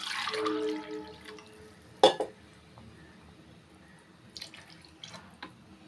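Half a tumbler of room-temperature water pours briefly into a pot of biryani masala, with a sharp clink partway through and a few faint kitchen clatters and drips afterward.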